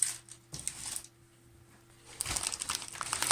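Crinkly rustling and crackling of taped plastic packaging being handled and pulled apart to unpack nursery plants, quieter in the middle and louder toward the end.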